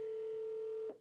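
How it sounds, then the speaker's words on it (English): A steady electronic telephone tone on an outgoing call line, a single sustained beep lasting about a second before cutting off. "The phone line is ringing."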